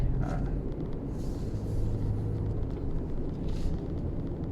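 Inside a Toyota Harrier on a smooth road, a soft, steady low road rumble runs continuously, with a voice talking over it.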